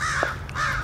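Crows caw loudly along an abandoned railroad turned walking trail, two harsh, close calls in quick succession.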